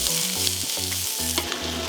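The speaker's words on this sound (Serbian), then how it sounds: "Kada se ulje zagrejalo, dodajem luk i pršim dok luk ne bude gotov." Chopped onion frying in heated oil in a pan gives a steady, close sizzle that runs throughout, with background music playing over it.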